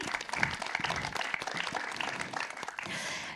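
An audience at a French public evening talk on ageing gives steady applause, a dense continuous wash of many hands clapping at moderate distance, with a few louder nearby claps and faint crowd murmur.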